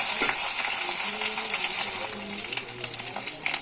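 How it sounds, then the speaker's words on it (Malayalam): Garlic, ginger and curry leaves frying in oil in a pan while being stirred, a steady close sizzle with scraping stir strokes throughout, no talking. "നന്നായിട്ടൊന്ന് ഇളക്കി കൊടുക്കാം."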